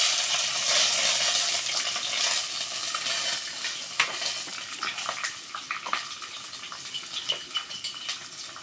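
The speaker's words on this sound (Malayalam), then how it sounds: "ഇനി അതിലേക്ക് ഇടാൻ പോകുന്നത് ചെറിയ ഉള്ളി, തക്കാളിക്ക, ഇഞ്ചി, വെളുത്തുള്ളി," Shallots, tomato, ginger, garlic and green chillies with curry leaves fry in a pan for a fish curry, a steady close sizzle with a few sharp stirring clicks and pops toward the end.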